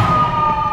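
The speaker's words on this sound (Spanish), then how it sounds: "La sirena de esta ambulancia indica una urgencia" A Mexican Red Cross ambulance siren sounds loud and close in a very brief burst of steady wailing tone.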